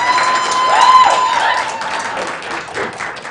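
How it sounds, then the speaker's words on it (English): Audience clapping fills a county board of supervisors meeting room, a steady moderate patter of many hands that swells slightly then tapers, with a faint tonal whine running underneath. "If you guys want to clap, you could"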